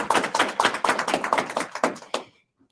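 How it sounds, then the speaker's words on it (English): A small tech-conference audience at a developer event claps with distinct, fairly close individual hand claps in an uneven rhythm for about two seconds, then stops abruptly into near silence. "Let's have a big round of applause."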